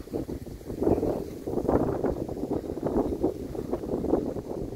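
Gusty early-morning wind buffets the microphone at a resort in a low, rumbling rush that swells and eases throughout, with no one speaking.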